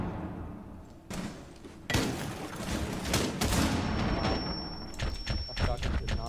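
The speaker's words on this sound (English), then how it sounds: "That shotgun did not do any damage there." A video game shotgun fires several times in loud, booming blasts with abrupt onsets, spread over a few seconds and mixed with other game noise and excited talk.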